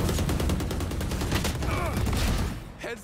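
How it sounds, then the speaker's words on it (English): Rapid gunfire bursts in Valorant, dense overlapping shots with a shotgun among them, loud and continuous over game sounds, with a voice heard briefly near the end. "The shotgun always saving those rounds."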